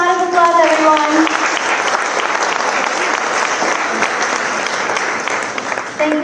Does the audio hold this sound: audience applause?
yes